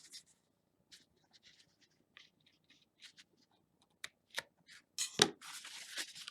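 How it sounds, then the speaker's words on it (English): Scissors snipping off an extra edge of string on a corrugated cardboard craft, a series of faint, sparse clicks and snips building to a louder crunchy cut near the end. "And then I'm going to snip that extra edge off."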